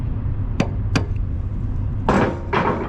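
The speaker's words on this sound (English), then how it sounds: "I think that hammer's overkill." Two sharp metallic taps on the wheel hub of a 1960 Pontiac Ventura hardtop, struck during bearing reinstallation, followed by two longer scraping, rattling bursts, all close and fairly loud over a low background hum.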